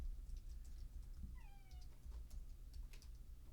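A house cat meows in a short rising-then-falling call, fairly quiet over a steady low hum and faint keyboard ticks in an indoor room.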